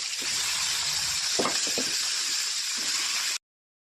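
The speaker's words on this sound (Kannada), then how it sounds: "ಈಗ ಒಗ್ಗರಣೆಗೆ ಚಿಕನ್ನ ಫಸ್ಟ್ ಹಾಕ್ತೀನಿ ನಾನು" Washed chicken going into a hot tempering for a chicken gravy, giving a steady close sizzle with a few light clinks of utensils, then cutting off abruptly near the end.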